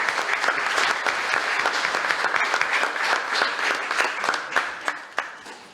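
Applause from an audience at a city commission meeting, honoring a 4x1 relay team member: dense, steady clapping from many hands that continues for about six seconds and thins toward the end.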